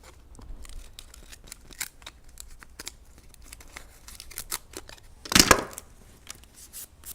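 A thin wooden crate slat cut into a plant label with a cutter or pliers, a series of small close clicks and scrapes building to one loud sharp snap, then quieter handling.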